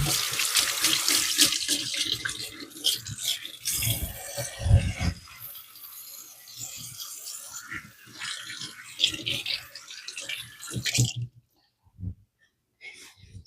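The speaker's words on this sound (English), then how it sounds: "Wash my hands again." Hands are washed under a running kitchen tap during baking, a loud continuous splash of water that stops abruptly near the end, with a voice talking over it.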